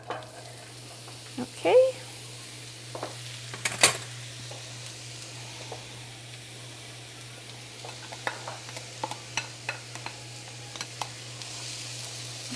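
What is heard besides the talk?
onion sautéing in a pan with a little oil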